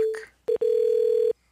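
Steady telephone tone after a call to the Social Security Administration drops, starting with a short beep and then a long continuous hum of about three-quarters of a second, loud and clear with no talk over it.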